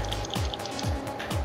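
Water being placed in a block-building game while constructing a mansion, a few soft, wet dripping plops in a steady rhythm, quiet and close.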